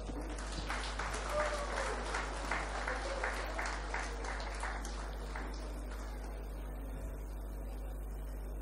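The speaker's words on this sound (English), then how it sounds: "Let's welcome sister amidst us with a loud of applause." Loud applause from an audience at a school golden jubilee celebration welcoming Sister Mary, many hands clapping densely for about six seconds before fading out, with a steady low hum underneath.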